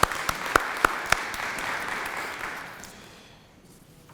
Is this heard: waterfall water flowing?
no